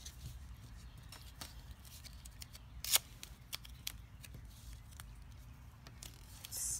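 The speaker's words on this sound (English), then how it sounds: "put on my foam adhesive. And I'm just going to tear pieces off." Strips of foam adhesive are torn off by hand, producing a steady series of short, dry ripping and crackling bursts at close range, with no talking.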